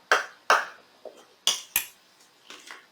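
A utensil clinks against a bowl while food coloring is mixed into a no-bake cheesecake mixture, with sharp, separate taps and knocks spaced irregularly through quiet pauses, close up and without talk.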